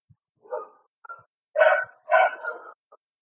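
A dog barks close to the microphone in quiet surroundings, with a few short yips followed by two louder, longer barks and a final soft yelp.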